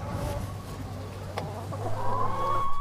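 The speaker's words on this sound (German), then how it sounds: "Gemeinsam mit Ehemann Heinrich will Heike jetzt die Legeleistung bei dieser älteren Hühnergruppe überprüfen." An older group of laying hens in a henhouse clucks and murmurs at a moderate distance, soft overlapping calls over a low background hum.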